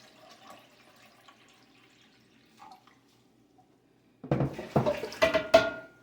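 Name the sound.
water poured into a pot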